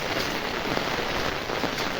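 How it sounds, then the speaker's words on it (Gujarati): Heavy rain pouring down over a flooded farm with wind, a dense, steady hiss of drops drumming on water and surfaces throughout, close and loud, no voices. "વરસાદ નહોતો તે નહોતો ને આવી જતી આમ ફૂલ જળબંબાકાર કરી ગયો છે"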